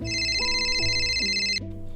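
A mobile phone ringtone plays during an unanswered call, a loud close melodic electronic tune repeating its notes steadily before cutting off, with no voices.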